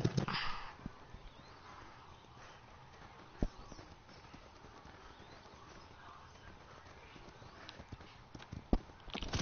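A horse in a video game gallops in quick, hollow clip-clop hoofbeats at a moderate level, with a few sharp louder knocks scattered through the run.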